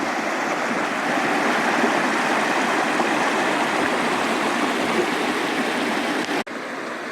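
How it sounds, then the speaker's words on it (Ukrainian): Steady rushing water of a small village stream, loud and continuous with a broad hiss, close by; no voices, briefly dipping near the end. "Ой, аж заспокоює такий цей шум води."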